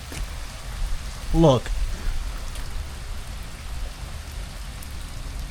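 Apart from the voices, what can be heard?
heavy rain pouring outside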